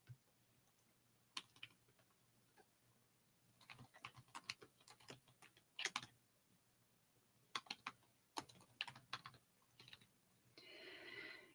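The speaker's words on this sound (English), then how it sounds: "I'll just type it in." Computer keyboard typing comes in irregular bursts of soft, close clicks at low level, pausing between runs, with a brief hissy noise near the end.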